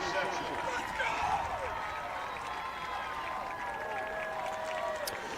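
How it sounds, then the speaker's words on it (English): Crowd noise at a high school football game between Nashua South and Bedford after an interception, a steady broad roar with scattered cheers and clapping holding level throughout, with a commentator's voice heard over it. "Well, the crowd reacting to the interception."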